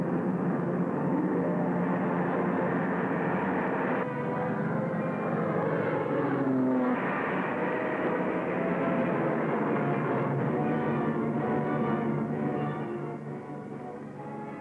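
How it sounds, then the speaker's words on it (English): Air Force B-17 bombers taking off, a dense, continuous roar of piston engines that holds steady and fades slightly toward the end, with no talk. "Warmed up and ready for battle, Air Force bombers took off to find the enemy."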